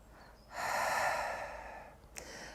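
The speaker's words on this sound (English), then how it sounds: "let's start with some long breaths in, long breaths out for me, please." A long, deep breath drawn audibly through the nose and mouth during a Pilates class. It swells loudly, then tapers into a softer, steady exhale, with a small click near the end.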